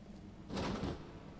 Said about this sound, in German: Eine Tür, die nicht reagiert.